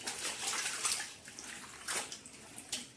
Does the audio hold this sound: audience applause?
no